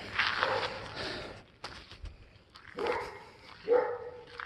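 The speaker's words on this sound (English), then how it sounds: "And geez, all these dogs." Several dogs barking at a distance, in short separate bursts with quiet gaps between them, fairly faint, with no speech.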